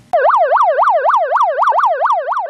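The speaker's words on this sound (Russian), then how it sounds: "Сирена пляжного спасателя предупреждает отдыхающих, что за буйки заплывать нельзя." A loud beach lifeguard siren wails in fast, regular rising-and-falling cycles, continuous and close, with no voices.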